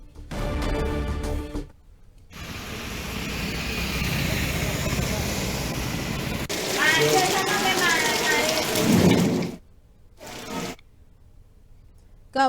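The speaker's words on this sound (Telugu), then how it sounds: "వర్షాలు కురుస్తున్నాయి రోడ్లు మొత్తం నదుల్ని తలపిస్తున్న దృశ్యాలు ఉన్నాయి" Heavy rain pours down on Hyderabad with a dense, continuous hiss over flooded roads, punctuated by brief gaps and splashing; a voice talks over parts of it.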